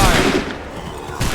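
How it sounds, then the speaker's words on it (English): A musket volley in Assassin's Creed 3, a loud burst of massed gunfire at the start that fades out, with a second report near the end. "Open fire."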